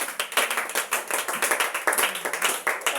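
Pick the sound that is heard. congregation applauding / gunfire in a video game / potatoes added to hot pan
congregation applauding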